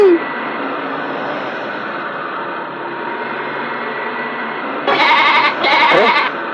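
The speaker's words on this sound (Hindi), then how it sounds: "बकरी के चिल्लाने की आवाज आ रही है" A goat bleats loudly and close by twice in quick succession, harsh wavering cries standing out over a steady background hiss in a dubbed film scene.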